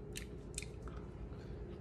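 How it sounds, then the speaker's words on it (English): Someone eats a bite of vegan potato, with a few soft, crunchy chews close to the mic over a steady low background hum. "About to taste this potato"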